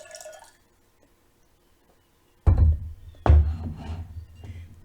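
Water drips in a quiet room: two distinct, close drops land about a second apart, each a soft splashy plop that trails off. The first half of the clip is near-silent apart from a faint tone at the start.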